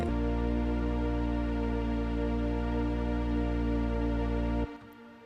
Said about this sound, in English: when you take a warm single unison synth sound and layer it with a loose high unison synth sound